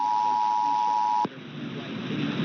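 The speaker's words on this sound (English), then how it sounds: "Required monthly test of the emergency alert system." An Emergency Alert System test sends out a steady, loud two-tone attention signal that cuts off abruptly partway through. A quieter broadcast hiss follows after it stops.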